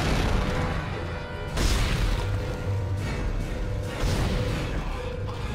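Several heavy booming gunshots in the video game Dead Space go off at uneven intervals over a steady rumbling background.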